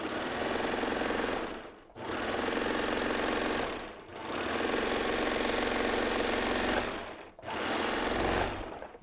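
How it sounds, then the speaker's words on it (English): A serger running a basic 4-thread overlock on stretch knit fabric buzzes in three long steady runs separated by brief pauses, close and loud. "I have 4 threads here and just your basic 4-thread overlock"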